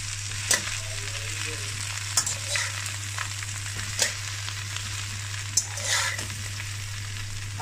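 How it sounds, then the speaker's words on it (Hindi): Okra fries lightly in a little oil in a kadhai, a close, even sizzle over a low steady hum, punctuated by several distinct spatula scrapes and taps spaced a second or two apart. "कढ़ाई में हम लेंगे थोड़ा सा ऑयल और उसमें अपनी ये भिंडी ऐड करेंगे और इसको हल्का सा फ्राई कर लेंगे"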